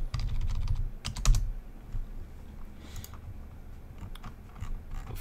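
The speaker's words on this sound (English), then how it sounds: "Oh my god, I can't type today." Fast, uneven typing on a computer keyboard, a steady patter of key clicks with a heavier burst of strokes early on, close and alone with no talk.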